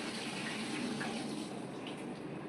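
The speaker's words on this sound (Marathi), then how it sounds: "मी मस्त आता प्रॉन्स धुवून घेणार आहे" Tap water runs in a steady, even gush while prawns are washed at home, a continuous rushing stream with no voices over it.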